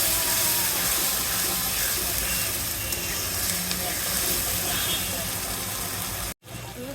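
Loitta fish fries in plenty of oil with chili and spices, a loud, continuous hiss that cuts off abruptly near the end, with talking over it.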